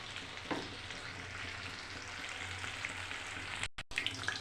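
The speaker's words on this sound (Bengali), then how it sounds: "এবার মালপোয়া ছেড়ে দেব" Malpua batter sizzling in hot oil in a pan, a steady close frying crackle throughout with a brief utensil knock near the end.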